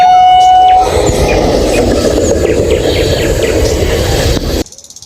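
A toy high-speed train plays a loud, steady rumbling run with horn-like tones near the start, continuous for several seconds and then cutting off abruptly into near silence.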